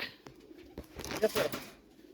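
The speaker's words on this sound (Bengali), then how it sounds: "খুবই চঞ্চল কবুতর ঝাক মাকড়া বাচ্চা" Jhak Makra pigeon chicks give a few soft, brief coos close by, scattered over about two seconds amid quiet background noise.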